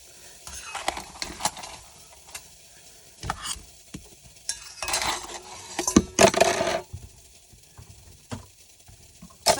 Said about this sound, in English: Pull the bread out of the Dutch oven.